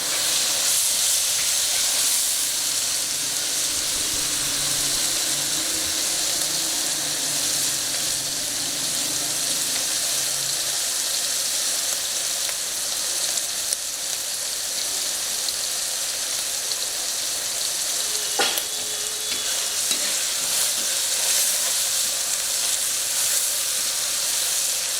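Paste of onion, ginger, garlic and green chili frying in a pan while browning, a steady loud sizzle and hiss throughout with occasional faint stirring scrapes.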